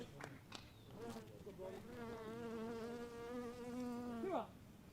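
A bee buzzes close to an on-field microphone at an American Legion baseball game, a steady droning hum that wavers in pitch and rises to a near, loud swell before breaking off.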